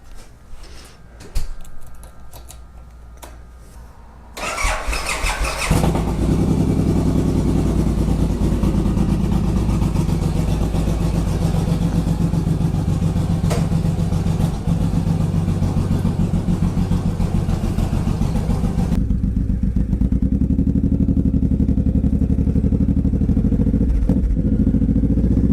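A Suzuki Boulevard C109R 1800 cruiser motorcycle engine idles loudly and steadily nearby, its deep exhaust throbbing without pause, with occasional light clicks early on before the engine catches.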